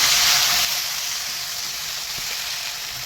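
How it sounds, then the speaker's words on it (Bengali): Figs hit hot oil seasoned with cumin seeds and dried chili, giving a brief louder burst of sizzling that settles into a softer, continuous fry. "এই ডুমুরগুলো তুলে দেবো তেলের উপরে"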